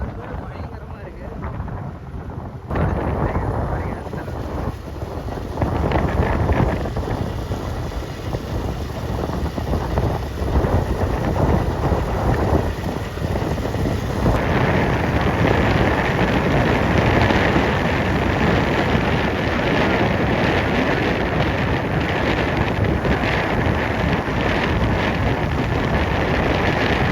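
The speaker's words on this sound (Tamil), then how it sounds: "இங்கே பார்டரில் தான் பயங்கரமாக மழை பெய்யுது." Heavy rain pouring down with strong gusting wind at a border area, a steady loud wash of noise with wind buffeting the microphone and water rushing, continuing throughout without letup.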